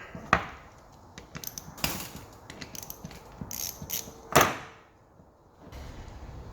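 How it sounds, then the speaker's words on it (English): A flaring tool forming the end of a brake pipe during a car restoration, with sharp metallic clicks, ratcheting and a few louder clunks against a quiet background, close by. "fingers crossed, we have a nicely formed brake pipe"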